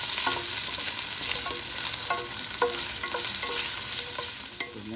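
Squirrel meat stir-fried with garlic and lemongrass in a hot pan: a steady close sizzle, broken by repeated scraping and clinking strokes of a utensil at an irregular pace, with no voices.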